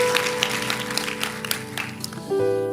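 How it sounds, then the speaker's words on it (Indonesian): A church congregation claps for the praise and worship team, fairly soft scattered applause under lingering music and keyboard tones, ending with a sustained chord. "Boleh tepuk tangannya di extend buat tim praise and worship kita."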